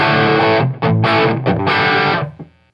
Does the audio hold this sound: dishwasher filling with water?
no